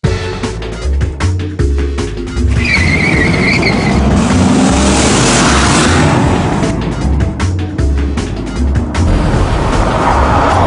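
A 2012 Dodge Charger police car roars past at high speed with squealing tires, engine revving hard and fading, loud and close with no talking.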